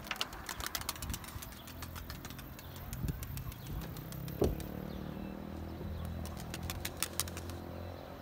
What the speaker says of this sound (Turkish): Bakın hepsi çat çat çat çat. Kanat sesleri sağlam.